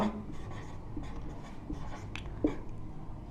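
A pen scratches across paper during a Class 10 maths lesson, with short strokes and taps close by in a quiet room.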